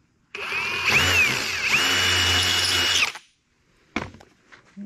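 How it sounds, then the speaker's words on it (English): A chop saw cuts steel all-thread rod in one loud, steady burst of about three seconds with a high metallic whine, then spins down and stops. A short clatter of handling noise follows. "So I cut some all thread here."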